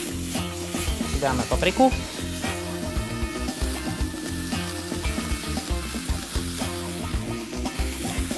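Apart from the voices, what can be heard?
stirring onion, garlic, herbs and pepper frying in pan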